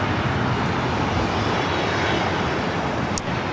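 A Southwest Airlines Boeing 737-800 jet roars steadily at LAX, a loud, continuous broadband engine rumble that holds evenly for several seconds with no voices.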